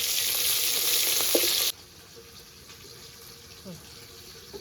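Tengra fish fry in hot oil with a loud, dense sizzle that cuts off abruptly partway through, leaving a quiet background with a few faint clinks.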